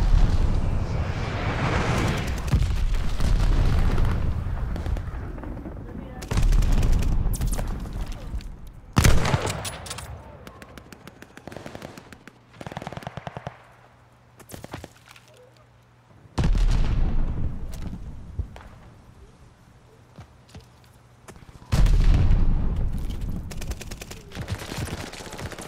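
Glide bomber strikes in a shooter video game, heavy booming explosions in repeated waves with rolling rumble and scattered gunfire between them, loud and close, with brief quieter gaps.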